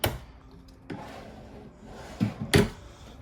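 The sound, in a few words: kitchen island drawer being opened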